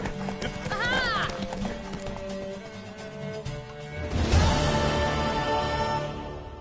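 A horse in The Witcher 3 gallops with quick clip-clop hoofbeats, then gives a loud, close whinny that rises over the running hooves.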